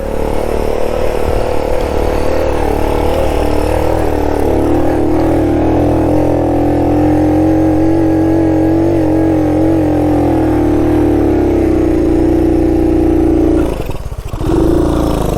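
A 1969 Honda Trail CT90's small engine revs hard and steadily, straining up a large desert hill climb, its pitch wavering and then dipping sharply near the end.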